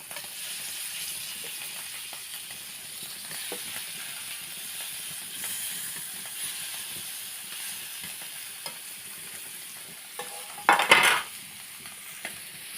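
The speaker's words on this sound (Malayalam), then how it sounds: "നമ്മൾ മീൻ പൊരിക്കാനായിട്ട് ഇട്ട് കൊടുക്കാം." Fish frying in oil in a dosa pan gives a soft, steady hiss and sizzle throughout, with a brief louder burst of crackling near the end.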